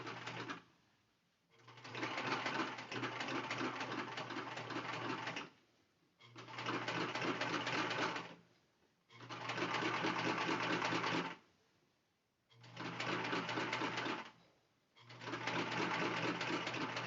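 Sewing machine driven by a foot pedal, running in five long bursts of steady stitching separated by brief pauses, fairly close and clear, with no voices.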